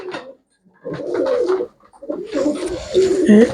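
Pigeons offered for sale give several close, throaty coos in short bursts, separated by brief pauses and with a longer, rising coo near the end.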